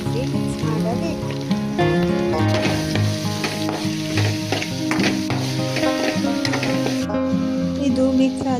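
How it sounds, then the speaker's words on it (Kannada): Curry leaves fry in a pan with a continuous, fairly loud sizzle and crackle, broken by occasional stirring clatter. "ಕರಿ ಲೀವ್ಸನ್ನು ಸೇರಿಸಿ ಮಿಕ್ಸ್ ಮಾಡಿ ಒಂದು 5-10 ನಿಮಿಷ ಫ್ರೈ ಮಾಡಬೇಕು"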